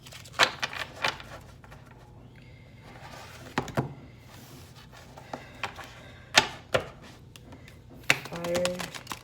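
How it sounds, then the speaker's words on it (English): Tarot cards riffled and tapped in short uneven bursts, with soft clicks and rustles between pauses; a voice and small clatters occur near the end. "having a very hard time shuffling"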